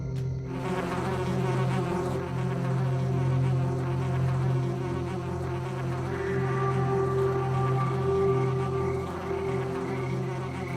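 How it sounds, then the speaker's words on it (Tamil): A wasp buzzes loudly and continuously near the listener, with a steady droning hum that shifts slightly in pitch partway through. No voices are present. "கொஞ்ச நேரத்துல குளவி குகைக்குள்ள வந்து மறைஞ்சிடுச்சு."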